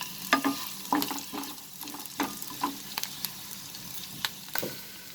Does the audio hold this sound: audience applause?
no